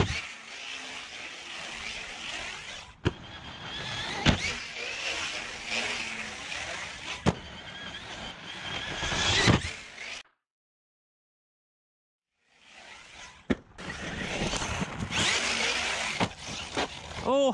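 A Traxxas Sledge 6S RC truck with a 1250kv motor runs in bursts of high whining motor noise with sharp knocks, stops for a couple of seconds of silence, then screams off again; a voice exclaims once.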